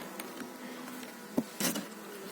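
Faint insect buzzing drifts through a quiet background, with a couple of brief louder passes as a bee flies close.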